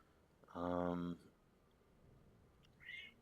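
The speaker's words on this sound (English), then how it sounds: "My cat is meowing at me." A pet cat meows indoors beside someone playing the factory game Techtonica: one clear drawn-out meow up close, followed moments later by a shorter, higher chirp-like call, with no talking.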